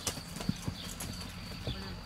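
A stallion's hooves clip-clop in an uneven rhythm as it is run around at Orlat, Sibiu, with several sharp, close hoof strikes over a constant outdoor background. Voices can be heard faintly nearby.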